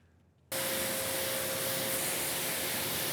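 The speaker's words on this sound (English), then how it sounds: "Now I'm only gonna spray 1/2" A spray nozzle spraying car shampoo starts abruptly and hisses continuously, loud and close, with a faint steady tone beneath it.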